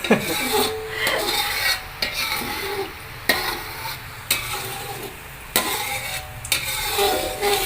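Thickening sugar syrup for getas, a crispy snack, is stirred in a pan with a spoon or spatula. Steady scraping is broken by several sharp clacks and splats as the sticky mass drops back into the pan.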